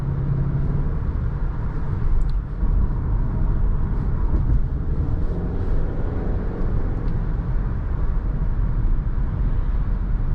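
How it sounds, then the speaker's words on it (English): Inside a 2021 Subaru Forester Touring on the move, a steady, loud low rumble of road and tire noise fills the cabin without a break. "It's about average levels of road noise in here."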